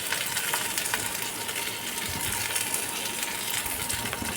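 Raw prawns fry in a pan over a lowered gas flame, a moderate, even sizzle with faint scattered crackles and no voices.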